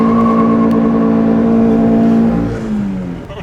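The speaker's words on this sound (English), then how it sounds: "the police just told us to do a burnout" VW MK7 GTI Rallywagen doing a burnout, a loud close engine holding a steady high drone that sags and fades near the end.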